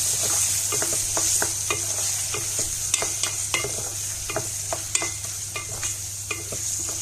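Chicken liver fries with onions in a pan, giving a constant loud sizzle up close, broken by frequent scraping and clicking as the pieces are stirred.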